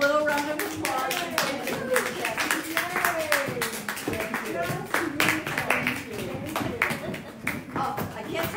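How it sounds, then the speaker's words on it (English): Scattered clapping from a small group celebrating after a spring fashion show, uneven hand claps running under continuous talking and cheerful voices. "So let's give them a little round of applause."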